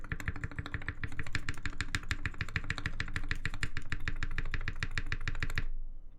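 Rapid typing on a TGR 910 keyboard fitted with Mauve switches, including its spacebar, gives a dense, steady run of crisp clacks. The keystrokes stay close and loud and continue unbroken for most of the clip, then stop abruptly near the end.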